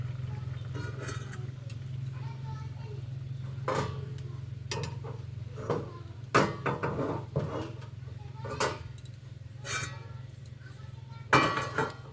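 Cooked potol (pointed gourd) and peanut curry scraped and poured from a pan into a serving dish, giving scattered clinks and scrapes of utensil against metal over a steady low hum after the gas is turned off.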